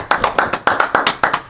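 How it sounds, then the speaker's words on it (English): A few hands clap a short round of applause on a talk show: about ten crisp, evenly spaced claps in a quick steady rhythm, close and fairly loud, with no voices. "Can we give yourself a round of applause"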